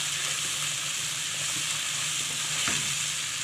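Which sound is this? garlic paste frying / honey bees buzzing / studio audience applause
garlic paste frying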